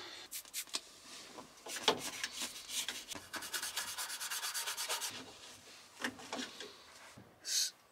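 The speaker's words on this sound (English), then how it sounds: "Now I'm going to clean with the all-purpose from Meguiar's, with some brush and a microfiber." Brush scrubbing the instrument cluster of a 1972 Ford F250 with Meguiar's all-purpose cleaner: close, steady scratchy strokes in quick bursts, with a brief louder swipe near the end, no talking.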